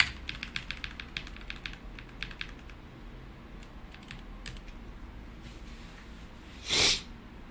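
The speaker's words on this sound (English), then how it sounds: "Typing HTML." Quick bursts of clicking on a computer keyboard while typing HTML, close and fairly quiet, with pauses between runs of keystrokes, then a sharp sneeze-like snort breaks in near the end.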